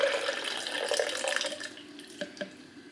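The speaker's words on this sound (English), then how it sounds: "So I'm gonna go ahead and pour the tea into here." Steeped tea is poured into a container, giving a close, bubbling liquid stream that gradually lightens and ends in a couple of final drips.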